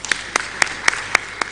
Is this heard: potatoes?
no